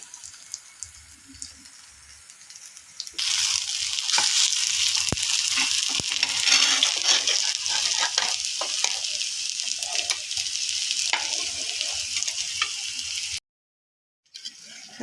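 Potato tikki patties for ragda pattice fry in a pan after being flipped, a sudden loud, dense sizzle that swells and holds steady for about ten seconds before cutting off, with faint knocks before it begins.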